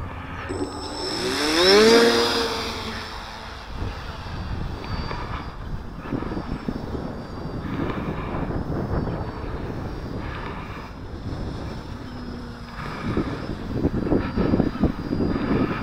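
A small electric RC plane's 3530 1000kv motor with 11x4.7 propeller on 3s whines loudly as it passes close by, then drones on more steadily at a distance amid strong wind.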